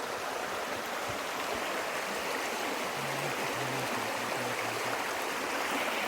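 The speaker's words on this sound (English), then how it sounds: "Right here on the river." A river in the Georgia backcountry flows steadily, its broad rushing hiss continuous and fairly close throughout, with a faint low hum appearing briefly midway.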